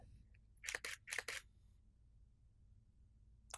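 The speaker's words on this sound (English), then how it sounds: "That was a slow shutter speed." DSLR camera shutter set to a slow 1/10 speed, firing as two quick paired clack sequences close together, crisp and near in a quiet room, followed by a single faint click.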